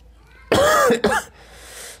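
A single cough, close and loud, in two quick bursts with a throat-clearing quality, then quiet room noise.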